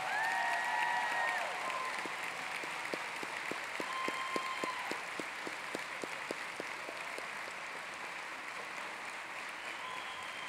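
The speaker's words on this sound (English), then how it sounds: "Let's give one more big round of applause to our new dental and dental hygiene graduates." Sustained applause from a commencement audience celebrating new dental and dental hygiene graduates fills a large hall, steady and dense, with a few whistles rising early on and the clapping continuing throughout.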